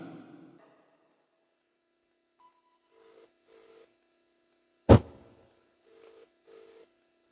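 Quiet phone tones sound in pairs of short beeps, broken by one sharp loud click in the middle, with near silence between them.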